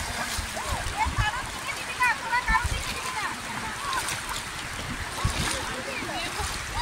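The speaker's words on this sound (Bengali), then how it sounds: "এদের জোয়ারে জল উঠছে" Incoming tide washing in at Dublagadi beach, a continuous rush and splash of shallow water, with voices chatting over it throughout.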